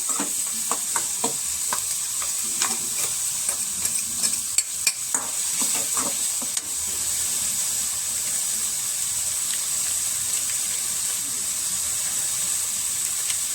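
Green chilies crackle and sizzle in hot tempering oil, with a steady bright hiss throughout and a handful of sharp spatters and spoon scrapes in the first seven seconds before the frying settles into an even fizz.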